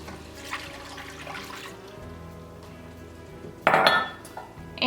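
Skim milk poured into a pan of chicken cooking in wine, first faint clinks of cookware, then a brief loud rushing splash of liquid near the end, no talking.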